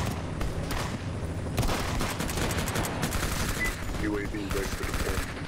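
Bursts of RPK machine gun fire in a video game, loud and dense, come in rapid rattling volleys across the whole stretch, mixed with other game gunfire and some faint speech.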